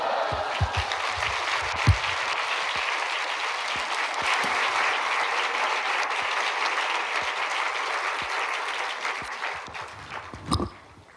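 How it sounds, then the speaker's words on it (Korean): A church congregation applauds to welcome a pastor, a dense steady wash of clapping from many hands that carries on for several seconds before tapering off, with a brief bump near the end. "목사님 나오실 때 우리 박수로 환영하겠습니다."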